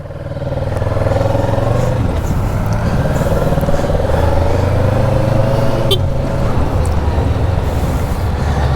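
A Kawasaki Ninja motorcycle is ridden at a steady pace, its engine holding a constant loud droning hum with rushing wind and a light clatter throughout.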